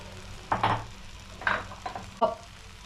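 Chili powder and coriander powder masala frying in a pan, soft sizzle under a few distinct scraping stirs of a spoon against the metal, close and moderately loud.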